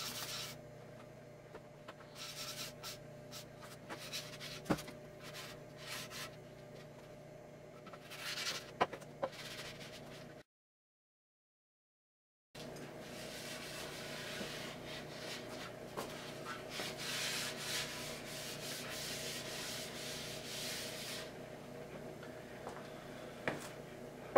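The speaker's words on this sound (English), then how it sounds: "Now we're gonna take a tack cloth to wipe up all the unnecessary little wood" A tack cloth is wiped over a wooden skateboard deck to lift sanding dust, giving soft, quiet rubbing strokes with scattered light ticks and a brief silent gap midway.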